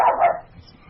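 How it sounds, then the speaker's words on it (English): A dog barking nearby in a home setting, one short loud bark followed by a fading tail, with no other sound. "Somebody's dog is barking."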